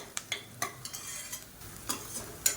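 Onions sauté in a pan for chicken varuval, giving soft, scattered scraping and stirring taps over a faint sizzle, quiet and close with irregular spacing.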